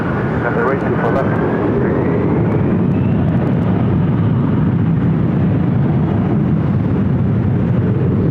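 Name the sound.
Boeing 777-300ER airliner taking off from LAX runway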